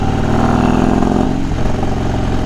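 A motorcycle engine runs steadily up close, a loud continuous pulsing rumble with a slight dip in revs partway through, no voices over it.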